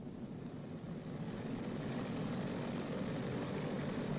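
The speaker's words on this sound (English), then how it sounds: "Advance number 1 throttle to 2000 RPM." Boeing B-29 Superfortress propeller engine throttled up to 2000 RPM, a steady, dense roar that builds slightly in loudness and holds, with no talk.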